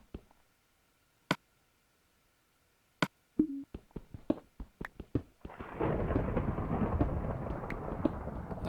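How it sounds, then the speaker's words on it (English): Thunderstorm in Minecraft on the Wii U: several sharp isolated cracks of thunder, then a steady roar of heavy rain that fills the last few seconds. "I'm guessing it's just a thunderstorm outside."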